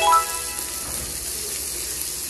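Onion drops into hot oil in a frying pan for Ilocano pinakbet, flaring briefly and then settling into a continuous close, hissing sizzle with no talking.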